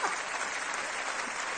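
An audience, children among them, claps at a French comedy performance: a dense, even patter of applause from start to finish with no voices over it.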